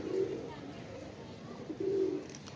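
An old pigeon coos twice in low, throaty bursts, with a pause between them, over steady background noise at close range.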